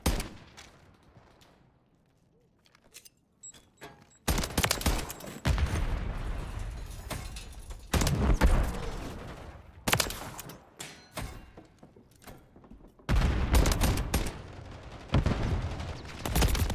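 Gunfire in Modern Warfare 3 during online play, loud bursts of automatic fire and single shots in several clusters separated by quieter stretches, heard without talk over it.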